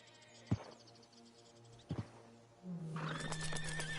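A horse in the Red Dead Redemption 2 video game gives two short, sharp snorts or hoof knocks, followed by a loud, sustained whinnying neigh that fills the last second and a half.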